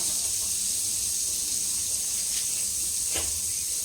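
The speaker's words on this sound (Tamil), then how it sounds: "இந்த நாஸ்டிக் pan வந்து இப்போ நம்ம நல்லா இப்படி வந்து ஹீட்ல பண்ணோம்னா பட்டர் வந்து நமக்கு நல்லா மெல்ட் ஆகும்" Butter melts on heat in a nonstick pan for bread roast, giving a soft, steady sizzling hiss throughout with a couple of faint clicks and no talk.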